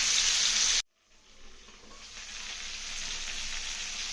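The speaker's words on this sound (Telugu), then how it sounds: "ఇలా మధ్య మధ్యలో మనం ఇలా తిప్పుకుంటూ ఉండాలి తిప్పుకుంటా బాగా ఎర్రగా వేయించాలి" Country chicken legs fry and are stirred in a pan with a loud, bright sizzle that cuts off abruptly, then returns more softly and builds back into a steady crackle.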